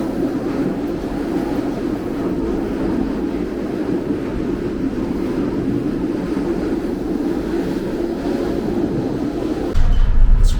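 Interior of an older, bumpy train on the Belgrade-Bar railway line: a loud, steady rumble and rattle of rolling stock on the track, rising abruptly near the end.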